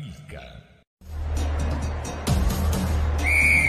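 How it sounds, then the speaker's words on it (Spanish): A short referee whistle blast at a football match sounds near the end over a loud engine drone, after a brief cut, with a voice talking at the start. "Suena el silbato"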